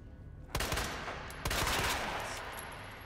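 Two loud bursts of automatic gunfire from the video game Resident Evil 2 Remake, the first around half a second in and the second about a second later, each trailing off into a long ringing decay with no talk.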